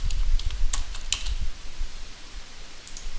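Keys clack on a computer keyboard while code is being written, quick bursts of close typing that grow sparser toward the end, with no voices.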